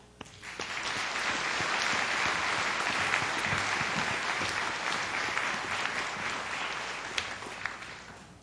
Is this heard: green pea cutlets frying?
no